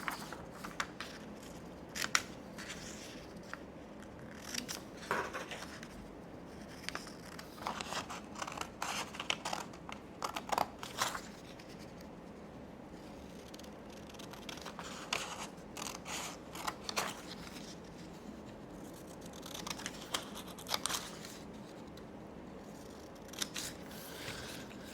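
Repeated snips of scissors cutting out paper rectangles for a classroom bead-cabinet activity, irregular crisp cuts with brief rustles between, close and moderately quiet with no talking.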